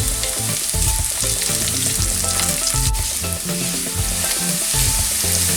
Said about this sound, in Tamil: கருவேப்பிலை பிச்சு போடணும்